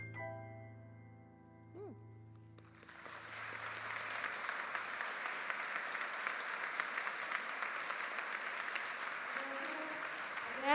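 Loud audience applause at a Colombian victims' remembrance event, rising after a few seconds of sustained tones and swelling into dense, continuous clapping that fills the rest of the clip.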